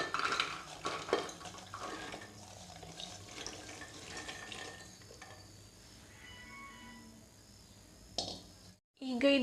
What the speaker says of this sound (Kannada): ಈಗ ತರಕಾರಿ ಎಲ್ಲ ಕುಕ್ಕರ್ ಒಳಗೆ ಹಾಕೊಳ್ಳೋಣ.